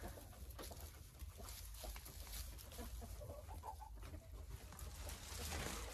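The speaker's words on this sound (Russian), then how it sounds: "Это курочка, которая несет оливковые яйца." An olive-egger hen crossed with an Ameraucana clucks faintly in a backyard coop, soft scattered clucks under steady outdoor noise.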